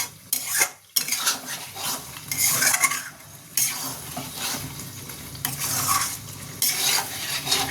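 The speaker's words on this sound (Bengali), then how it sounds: "এইটাকে একটু ধৈর্য ধরে কষাতে হয়।" Mutton bhuna with green chilli being stirred and sautéed in a pan, with a steady loud sizzle of frying and repeated scraping of a utensil against the metal, nearby and without talk.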